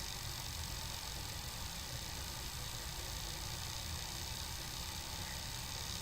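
A Honda touring motorcycle labours up a steep, quiet hill road in the Bukit Barisan mountains. Its engine sound is a steady, broad, noisy drone heard continuously throughout, with no rising pitch and no talk.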